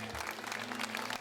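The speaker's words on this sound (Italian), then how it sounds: "fate ancora un altro applauso" Audience applause in an outdoor piazza at an evening show in Jesolo, a brief, even burst of crowd clapping heard from a distance, with faint voices mixed in.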